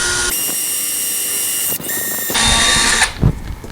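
A power drill bores through a metal or wood door while cutting a cat-door opening, whining loudly in two long bursts with a brief pause between, then slowing and stopping near the end.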